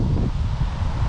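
Strong wind buffets the microphone on a hillside in Prospect Hill Cemetery in Paw Paw, Michigan, a continuous loud low roar with rustling, and no voices.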